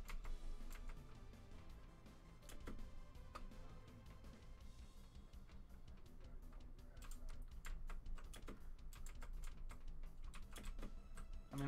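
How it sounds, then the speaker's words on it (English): Rapid clicking keystrokes on a Shark Bite computer keyboard, dense and continuous, close up, with steady room hum underneath and no voices. "Don't you know I got the new Shark Bite keyboard?"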